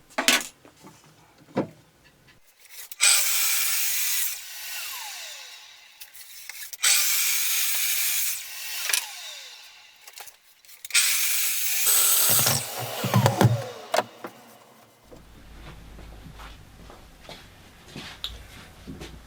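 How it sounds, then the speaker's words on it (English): Wooden shelf uprights are trimmed back to a marked cut line with a hand tool: bursts of rough rasping strokes a few seconds long, separated by short pauses and light knocks, close and fairly loud. "I'm squaring around the ends of the uprights to mark the cut line, then trimming back to the line"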